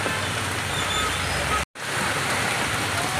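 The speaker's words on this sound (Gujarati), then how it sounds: "ગુજરાત યુનિવર્સિટી રોડ ઉપર જોરદાર વરસાદ વરસી રહ્યો છે" Heavy rain pours down steadily on a road in Ahmedabad in a dense, continuous hiss, broken by a brief moment of silence midway before the downpour resumes.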